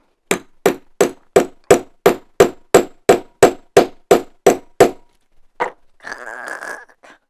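A hammer strikes a set rivet in a fast, even run of about fourteen sharp metallic clangs, close and loud, followed by a couple of scattered knocks and a short burst of handling noise.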